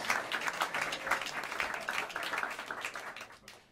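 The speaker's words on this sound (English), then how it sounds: "Round of applause for Harvie S. playing the bass." Steady applause from a jazz club audience at Smalls in New York City, dense clapping that carries on throughout before tapering slightly at the end.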